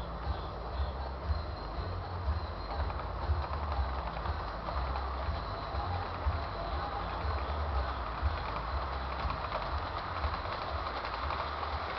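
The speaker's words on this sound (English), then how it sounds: "I'm going to get a video shot of the train crossing the diamond here" An HO-scale style model train rolls steadily across a diamond crossing on a home layout, giving a continuous close rumble and rattle of wheels over track with faint clicks, no voices.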